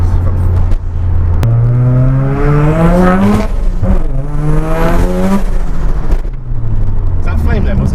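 Mazda RX7 rotary engine accelerating hard, loud and close, its sharp rising whine climbing through several gear changes with brief drops and bangs between pulls.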